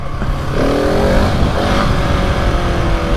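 A KTM 701 Enduro motorcycle engine revs hard and steadily during a wheelie on a first ride, loud and close for the whole stretch, with rising engine harmonics and a sustained roar.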